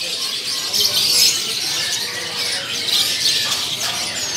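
Caged songbirds at a bird kiosk, among them murai batu and kacer, give high, scratchy chirps and squawks over a steady room background.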